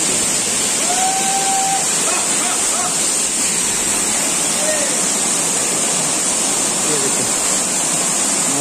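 Fast, rushing water pours down steadily at a temple site, a continuous loud roar of falling water filling the whole clip with no break.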